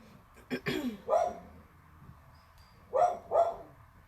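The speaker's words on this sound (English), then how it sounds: "my dog likes to bark at everybody" Several sharp dog barks in two bursts, separated by a quiet pause, fairly close and clear against a quiet room.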